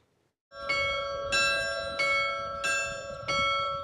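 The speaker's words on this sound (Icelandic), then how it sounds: "Vígslan hófst á því að kirkjuklukkurnar voru blessaðar" Church bells of a newly built church on Grímsey island, Iceland, rung at its consecration: five clear, resonant strikes at a steady pace, each bell tone ringing on and overlapping the next, close and loud with no talk.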